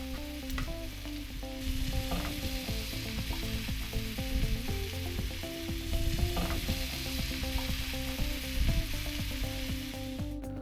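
Red snapper and shrimp fry on a Fire Disc cooker, giving a steady, loud sizzle with crackling pops throughout and a low hum beneath, alone with no talking.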